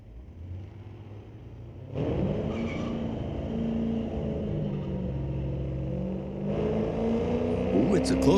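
A drag race at Mission Raceway Park's street-legal night pits a 2023 Mercedes against a 1971 Charger: a low rumble swells sharply as the cars launch, then a sustained roaring engine drone with gear-change shifts, heard from trackside.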